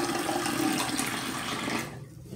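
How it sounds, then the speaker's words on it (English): Running water splashes steadily as alum is rinsed off the face after a shave, a continuous close wash that cuts off near the end. "Rinse off the alum."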